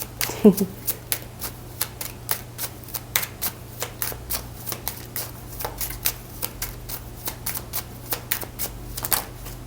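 Oracle cards are shuffled in a quick series of crisp, close flicks and riffles, evenly spaced sharp taps throughout over a low steady hum.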